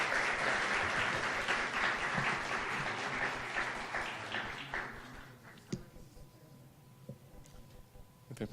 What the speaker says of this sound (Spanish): para quien pido un aplauso también entonces al doctor Gilberto